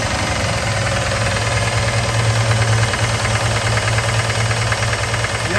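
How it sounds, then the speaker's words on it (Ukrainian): A motor runs loudly and steadily close by, with a knocking, rattling idle and a constant high whine, no talking. "Послухаємо, як працює мотор."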